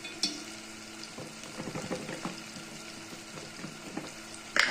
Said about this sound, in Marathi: हे पण चांगलं परतून घेते